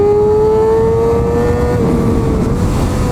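Kawasaki ZX6R motorcycle engine on a race track, a loud, steady high-pitched whine holding near-constant revs, with the pitch easing slightly downward, close and continuous with no talk.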